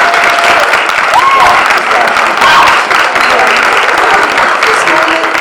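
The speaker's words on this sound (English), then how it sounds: "So once again, a round of applause for all the" Audience applause for participants at the 2025 Chamber National Civics Bee competition, a steady, dense clapping from a crowd sustained for several seconds, with faint voices mixed underneath.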